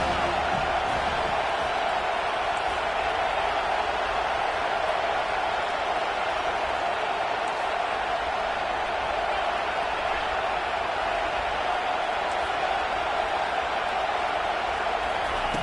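A large college football stadium crowd roars and cheers in a steady, dense wall of noise that continues unbroken throughout, with a broadcast commentator's voice faintly under the din.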